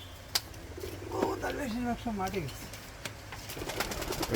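Pigeons coo at a hobby pigeon farm, a soft warbling coo rising and falling in a short phrase, fairly near and quiet, with a faint click and light background rustle around it.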